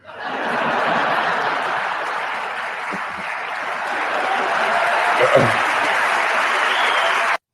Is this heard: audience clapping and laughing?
yes